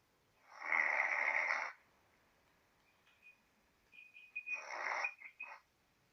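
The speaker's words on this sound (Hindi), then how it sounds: "ये कौन खर्राटे ले रहा है भाई?" A person snores twice, a long raspy inhale followed by a pause, then another broken, rattling snore, close and fairly quiet.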